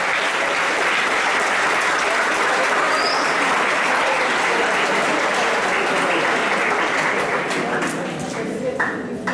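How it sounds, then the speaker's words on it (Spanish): A hall audience at a symposium in Santa Cruz Verapaz claps steadily and loudly for a priest, a dense unbroken wash of applause that starts to thin out near the end. "Fuertes los aplausos entonces para el Padre"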